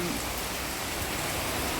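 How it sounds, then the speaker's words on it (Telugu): Heavy rain pours down outdoors, a dense, loud, even hiss of water striking surfaces that holds steady without a break for the full two seconds. "చూడండి, ఎంత పెద్ద వర్షమో."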